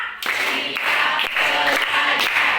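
Schoolchildren in a classroom clap together in a rhythmic counted sequence, bright sharp hand claps grouped in quick repeated bursts, loud and near, with no voices over them.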